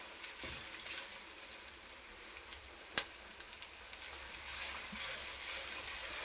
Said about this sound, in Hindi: जैसे जैसे इसको मैं हल्का सा फ्राई करूँगा, वैसे वैसे अदरक की और हरी मिर्चियों की बहुत अच्छी खुशबू आएगी।